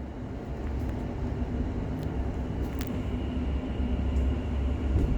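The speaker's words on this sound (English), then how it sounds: "This is a Liberty Line train to Upminster." A London Overground Class 710 electric train rumbles steadily at a close, even loudness, with a low hum and occasional faint squeaks over the running noise.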